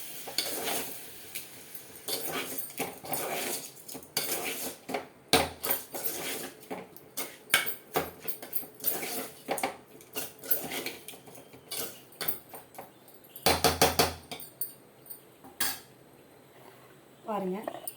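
Chicken curry ingredients being mixed in a metal pot with a spoon, giving irregular clinks, scrapes and knocks, close and fairly quiet, with occasional louder bursts and some talking in between.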